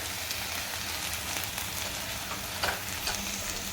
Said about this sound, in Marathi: गरम मसाला दोन मिनटं हे छान परतून घ्यायचं आहे तेलावर